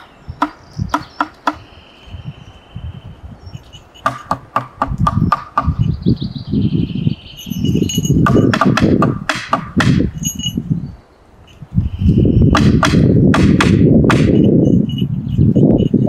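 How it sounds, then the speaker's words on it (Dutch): Hands drumming on the floor or an object: sharp, dry slaps come in short rhythmic bursts with pauses between them, like a call-and-response pattern, mixed with rumbling and some high birdlike chirps in the background. "Ik ga trommelen en trommel mij maar na."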